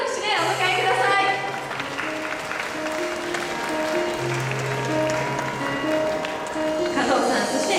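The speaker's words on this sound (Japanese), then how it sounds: "どうぞ拍手でお迎えください。" Warm, sustained applause from an audience at a flower demonstration event, clapping steadily throughout while background music plays.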